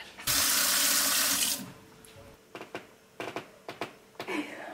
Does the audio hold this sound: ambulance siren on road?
no